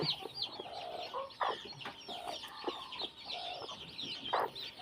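Newly hatched chicks peep and chirp in a high, busy chorus among hens that cluck now and then, close by with no talking.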